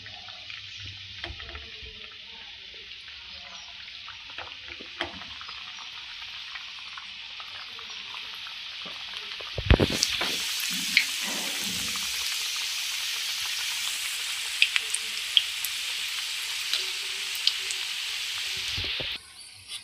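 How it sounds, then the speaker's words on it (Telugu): Gajjikayalu pastries drop one by one into hot oil, and a faint background bursts into a loud, continuous bubbling sizzle with occasional sharp pops, close by, until it cuts off abruptly at the end. "ఆయిల్ హీట్ అయింది, గజ్జికాయని ఇలా ఒక్కొక్కటి వేసుకోవాలి."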